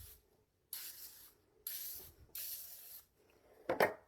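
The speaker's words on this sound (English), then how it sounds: "I'll just spray the tins." Cooking spray hisses onto baking tins in three steady bursts of about a second each, close and clear, followed by a short clatter of a tin.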